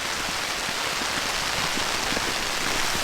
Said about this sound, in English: But this rain is just constant, and we're in the fog.